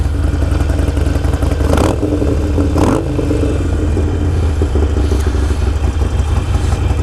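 Motorcycle fitted with a Gallop Exhaust Mighty Comet exhaust rolling down a highway, a loud steady engine drone with deep low rumble and a couple of brief rising revs, close and continuous, no talking.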